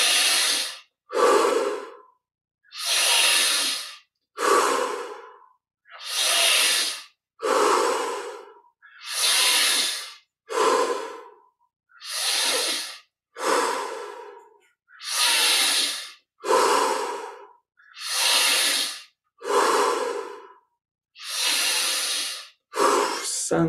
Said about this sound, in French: Cinq dernières respirations. Dernière chance de saturer en oxygène et en énergie.